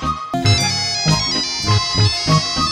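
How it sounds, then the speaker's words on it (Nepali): A mobile phone rings with a loud, repeating musical ringtone melody that plays alone without any talk. "घन्टी बाजेर दिक्क लायो मोबाइल त उठाउनै पर्यो"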